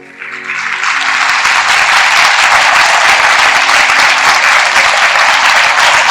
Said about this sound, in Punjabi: ਦਿਲ ਖੋਲ ਕੇ ਤਾਲੀ ਮਾਰੀਏ।